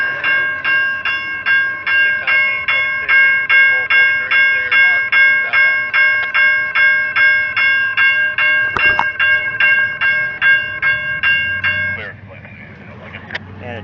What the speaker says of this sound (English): you can hear the other horn, which means it's Amtrak.